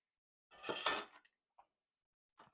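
Butter stirred into a pot of coconut cod curry: a short burst of scraping and clinking utensil against pot, followed by a couple of faint, brief knocks, with no talking.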